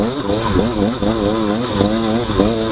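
A dirt bike engine revs loudly during a hare scramble race, its pitch rising and falling in repeated throttle surges over a steady droning buzz, heard close and continuous.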